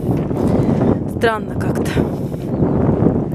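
Cold wind buffets the microphone with a rough, continuous rumble in southern Spain, while a person speaks briefly over it.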